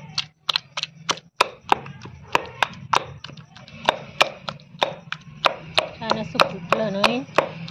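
Tomatoes and roasted chillies pounded in a stone mortar and pestle for brinjal bharit, a steady run of sharp, close knocks and crushing thuds repeating every half second or so, with no talk.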